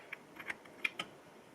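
A few small metallic clicks and taps as a washer and gear are fitted into the bottom end of a Yamaha RZ350 motorcycle engine, quiet, close and isolated, with no talking.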